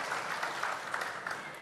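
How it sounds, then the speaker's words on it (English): An audience claps steadily to welcome a speaker on stage, a soft, continuous patter of applause heard from a short distance. "let's now welcome Supreme Master Ching Hai with a warm round of applause"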